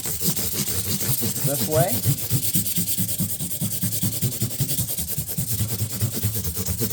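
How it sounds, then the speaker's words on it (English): Guitar frets being sanded with 400 grit sandpaper during a refret, a rapid back-and-forth rasping rub repeating steadily and close up, with a brief spoken phrase partway through. "The process begins with 400 sandpaper."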